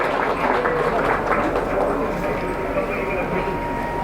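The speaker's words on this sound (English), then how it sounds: "A big round of applause for both of them," Audience applauding at a Central Puja Committee harmony get-together, giving a round of applause for two people: a continuous wash of clapping with a voice running over it.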